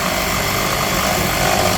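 A Makita power tool cuts wood for a plant stand, a loud, steady whine holding constant and close for the whole stretch, with no voices over it.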